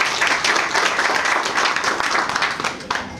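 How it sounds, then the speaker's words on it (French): A crowd at a partnership ceremony in a Senegalese commune applauds in a steady, loud round of clapping that thins out toward the end. "Vraiment, je demande à tout le monde d'applaudir pour cet acte."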